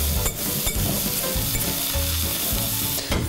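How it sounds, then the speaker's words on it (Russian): Salad leaves tossed with dressing for a homemade cheese-with-herbs-and-nuts dish, a steady close wet rustling and stirring that runs the whole time with a few brief louder scrapes, no voices. "Вот так вот их мы аккуратно перемешаем."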